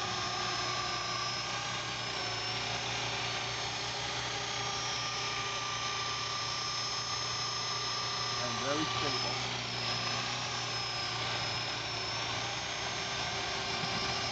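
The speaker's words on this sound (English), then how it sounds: "we're gonna land this helicopter" A small Walkera Lama 400 RC model helicopter with an EC-135 body whines steadily at a constant high pitch, holding a hover nearby with a faint buzzing drone underneath throughout.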